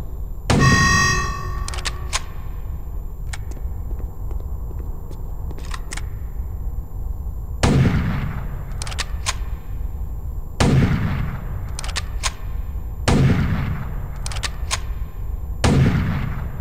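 Sniper rifle shots in the Chaser video game, zoom-scoped weapon firing five separate loud cracks spaced a few seconds apart, each with a sharp attack and a short ringing tail over a low background hum.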